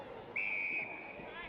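An umpire's whistle sounds one sharp, steady blast at an Australian rules football match, a WAFL Colts game, over a distant crowd murmur.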